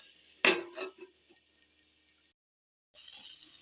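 A plate is set over a pan of frying potatoes, giving two quick metallic clinks close by, then a faint hiss before a short silence and renewed sizzling.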